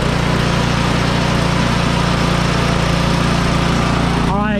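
A Craftsman snow blower's small gas engine runs loud and close, a steady buzzing roar that ends in a brief rising sweep as the engine revs.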